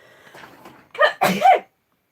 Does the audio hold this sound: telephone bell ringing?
no